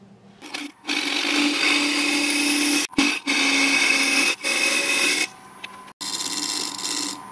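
A wood lathe cuts away a tenon in loud, steady bursts of whirring and scraping, broken by several short pauses, with no talking.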